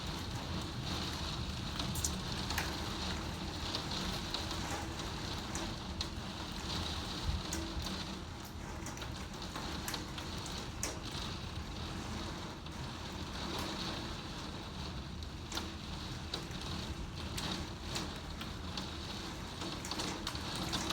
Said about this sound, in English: And that's the sound of hail you hear